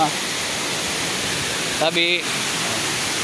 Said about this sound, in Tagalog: nandito na mga idol sa Saltahan Falls